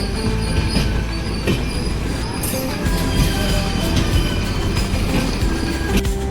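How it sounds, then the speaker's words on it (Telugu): Passenger train pulling out of Venkatagiri station with sleeper coaches, steady loud rumble of wheels and rail noise with occasional squeals and clicks, continuous throughout. "వెంకటగిరి నుంచి ట్రైన్ అయితే బయలుదేరేసింది."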